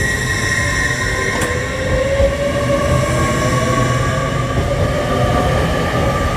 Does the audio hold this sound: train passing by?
yes